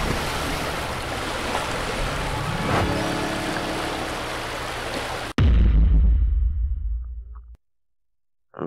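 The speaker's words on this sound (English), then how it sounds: "let's go ahead and lower the water here to get into the caverns" Water draining away in the video game Gem Hunter to open the caverns, a loud, steady rushing wash that breaks off abruptly into a deep low surge, then trails into silence.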